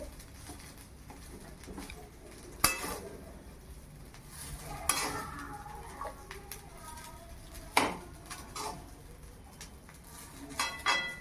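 Mint coconut rice being stirred in a pot, with irregular scraping and clinking strikes of a spoon against the metal pot, a few sharper knocks standing out over low background noise.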